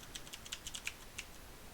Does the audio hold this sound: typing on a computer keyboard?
yes